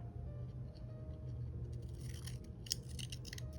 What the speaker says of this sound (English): I'm gonna cut it.